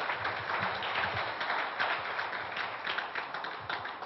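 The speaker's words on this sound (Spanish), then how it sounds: "un aplauso para Gustavo" Audience applause for a speaker named Gustavo at the close of a talk, a dense, steady wash of many hands clapping at moderate loudness throughout, with no voices over it.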